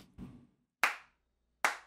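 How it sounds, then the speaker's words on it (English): A single hand clap lands sharply and dry, and another follows after a pause, both close and isolated in silence after a brief muffled thump. "Listen to that terrible one clap."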